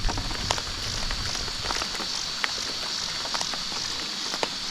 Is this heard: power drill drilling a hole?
no